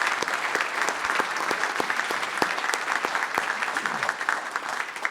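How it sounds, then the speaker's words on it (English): People at a year-end meeting give a round of applause, a moderately loud, lively patter of many hands with individual sharp claps standing out, lasting about five seconds. "I think they deserve a round of applause."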